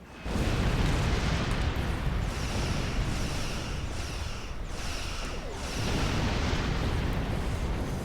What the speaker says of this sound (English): if you destroy one turret, the explosion would just destroy the others